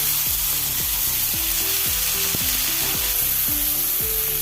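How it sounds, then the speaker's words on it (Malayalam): Chopped tomatoes hit a hot pan for tomato chutney, a loud steady sizzle with repeated scraping strokes of a spatula in an even rhythm, no talking. "തക്കാളി അരിഞ്ഞത് ഇട്ട് കൊടുക്കാം"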